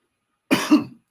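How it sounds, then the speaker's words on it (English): A single short cough from a man giving a spoken statement, close and fairly loud, two quick bursts in one breath, alone with silence around it. "sorry, I have a small cough"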